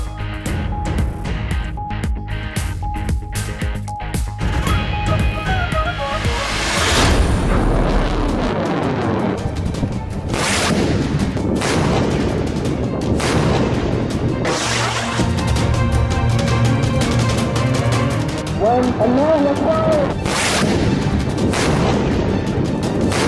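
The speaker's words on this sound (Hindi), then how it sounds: "पाक फौज का जमीन से जमीन तक माफ करने वाले शॉर्ट रेंज बिलिस्टिक मिसाइल नसर का कामयाब तजुर्बा" A Pakistan Army Nasr short-range surface-to-surface ballistic missile test launch: loud, repeated booms and crashing blasts over about twenty seconds, some sharp and some rolling, set against a steady tonal background.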